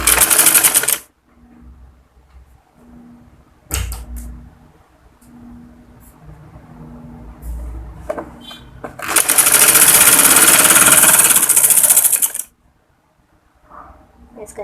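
A domestic sewing machine runs in loud, steady bursts, the longest lasting about three seconds, as it stitches an embroidered neckline on a kurti, with quiet gaps between the runs.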